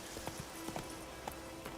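A horse's hooves clip-clop faintly in The Witcher 3 as the mount trots up when called, with irregular light steps under steady game ambience.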